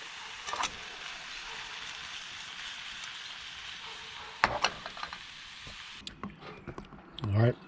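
Mushrooms sizzle steadily in a pan on a Firebox camp stove, a constant close hiss running under a voice, with a few knocks and clatters and a louder scrape near the end.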